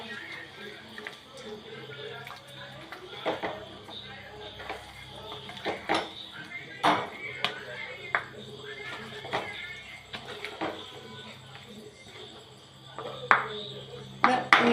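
A spoon stirs a nut chicken curry in a pot, giving scattered light clinks and scrapes against metal with soft liquid sloshing, fairly quiet and intermittent beneath a person talking throughout.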